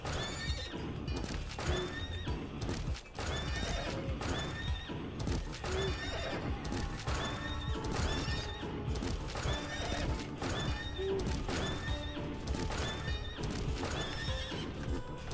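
Horse in a video game neighs and whinnies repeatedly over steady clip-clopping hooves, a dense, loud, continuous mix with a game soundtrack running underneath throughout.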